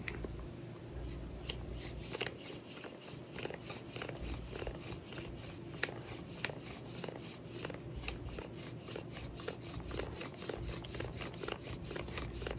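A bow drill spindle rubs back and forth against wood in the desert while making fire, a rapid rhythmic scraping and rasping that repeats steadily at close range.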